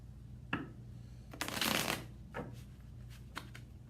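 Tarot cards shuffled by hand in a few quick riffling bursts, the longest and loudest in the middle, with softer card rustles around it, close up and with no talking.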